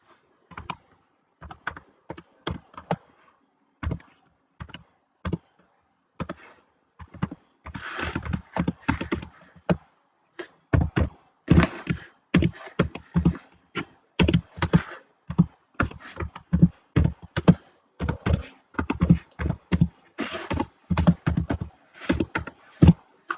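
Typing on a computer keyboard while filling in a Google Form, sparse single keystrokes at first, then denser runs of close, crisp key clicks with short pauses, no voices over them.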